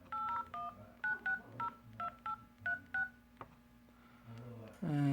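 Touch-tone keypad beeps from a repaired Droid Turbo 2 as an office number is dialed, about ten short evenly spaced dual tones in quick succession, followed by a brief pause and a rising tone as the call connects.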